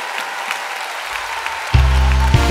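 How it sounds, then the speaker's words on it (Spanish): Applause from a live Cuban music show audience, a steady wash of many hands at moderate volume, before deep sustained musical tones come in strongly partway through. "recíbalo con un fuerte aplauso"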